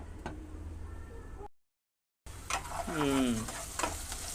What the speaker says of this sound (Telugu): ఇంకొక నిమిషం ఏగితే ఉల్లిపాయ ఏగిపోద్ది మూత పెట్టుకున్నాం